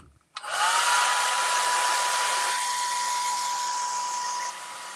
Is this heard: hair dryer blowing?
yes